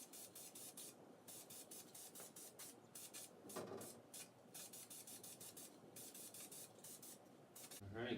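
Aerosol spray paint hissing onto a Revell Peterbilt 359 model truck cab during its second coat, in steady close bursts broken by short pauses, with one longer stronger burst near the middle.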